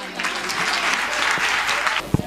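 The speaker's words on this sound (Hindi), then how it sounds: "पास्टर याकूब के लिए ज़ोरदार तालियाँ।" A crowd at a church Christmas celebration applauding steadily throughout, a dense wash of many hands clapping, ending with a single louder thump.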